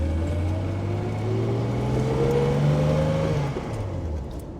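A 1966 Maserati Mistral coupe's 4.0-liter engine warms up on a cold day with a close, steady, loud hum. Its pitch rises slowly, then eases off near the end.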